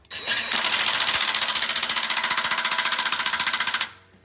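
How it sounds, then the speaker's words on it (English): An impact wrench on its lowest setting drives bolts into a Go Rhino E1 electric running board bracket on a 2018 Jeep Wrangler JK 4-door, giving one close, loud, steady rapid hammering burst of about three and a half seconds. "Just get it finger tight for now. And I'll snug it down with an impact."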